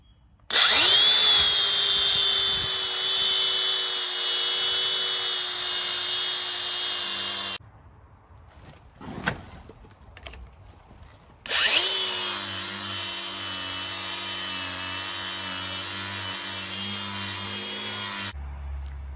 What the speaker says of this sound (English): We're just going to be grinding them off with a flap disc to get the paint off so we can get a good weld